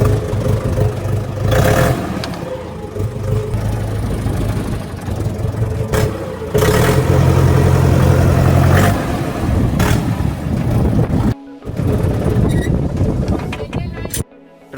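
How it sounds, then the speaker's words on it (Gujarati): A tractor on a farm field starts up after sitting idle for days and settles into a steady, loud low-pitched diesel rumble, with a few revs and a brief cut near the end. "ટ્રેક્ટર ચાલુ કરી."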